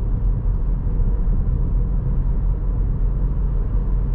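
Steady low road rumble inside a 2024 Citroën C3 Aircross Shine with a 1.0 turbo engine and CVT, dominated by tire roll and wind turbulence rather than engine sound, continuous and even with no talking.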